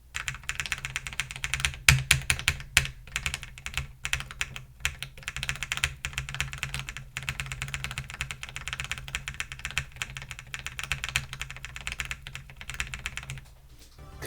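Rapid, continuous typing on a mechanical keyboard with Kailh V2 Tactile Phantom switches, close and clear, a dense clatter of keystrokes with occasional louder presses and no voices.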